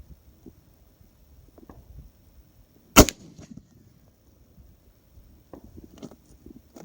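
A single sharp, heavy gunshot from a Pedersoli John Bodine rolling block rifle in .45-90, loud and abrupt against a quiet background, followed by faint handling noises.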